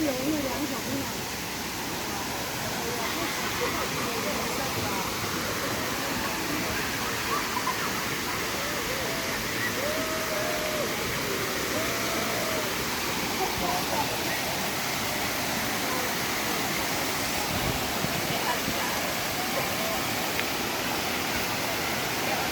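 Kuang Si Waterfall near Luang Prabang roaring as a steady, dense wash of rushing water, loud and constant throughout with no let-up, a faint voice occasionally present beneath the noise.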